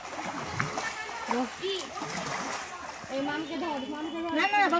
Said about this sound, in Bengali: এবার মিমির দিদা নেমেছে পুজো স্নান করতে